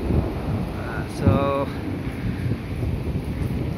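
Strong wind roars on a dusty day in Kuwait, buffeting the microphone with a steady, broad rush. A brief voice-like tonal sound rises partway through.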